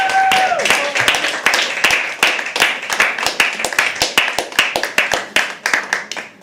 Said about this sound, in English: keep the applause going for our next performer